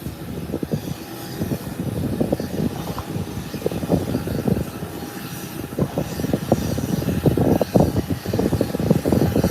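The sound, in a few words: airliner taxiing and turning at the airport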